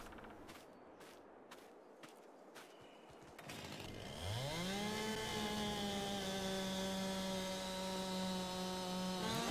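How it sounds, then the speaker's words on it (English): A chainsaw starts up after several sharp pulls and revs into a loud, steady whine while felling a tree, preceded by a few crisp knocks and rustling. "let's go ahead and chop down another tree"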